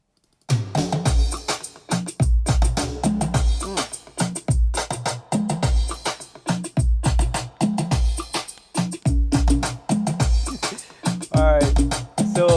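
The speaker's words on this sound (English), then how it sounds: "the drums all sound like this" Programmed drums from a studio production session play a dense, punchy beat of booming low kicks and crisp hits, loud and continuous over about twelve seconds with other synthesized layers woven through.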